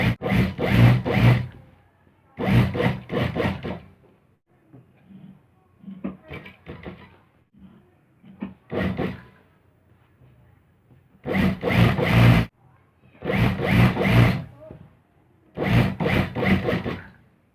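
Bursts of a sewing machine stitching salwar fabric along a seam, running in about five short, loud spurts with quieter handling of cloth between them.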